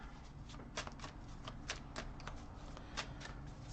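Tarot cards being shuffled by hand, a steady run of soft papery riffles and flicks at close range with no talking, over a faint low hum.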